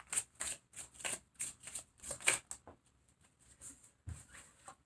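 Tarot cards shuffled and drawn by hand, a run of quick papery riffles and soft slaps close up, with a single firmer card snap near the end and no talking.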